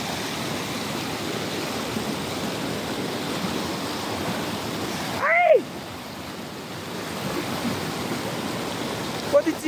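A mountain stream on the Hugu to Kapuche trek rushes with a steady, broad hiss of flowing water throughout, broken once midway by a brief rising whistle-like chirp.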